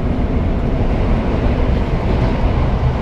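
A packed Tokyo Metro subway train rumbles along at close range, a loud, steady low roar with no voices.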